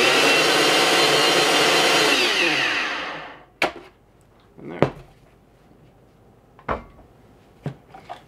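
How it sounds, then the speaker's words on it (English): A NutriNinja blender whirring loudly as it mixes pancake batter for about three seconds, then winding down to silence, followed by a few sharp clacks and knocks of handling the container. "here I'm going to use the NutriNinja just to mix this up real fast and easy"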